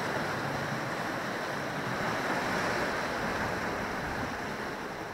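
Rough sea swell breaks and washes against the shore where people fish for squid and cuttlefish, a loud, constant roar of surf with wind noise and no pauses.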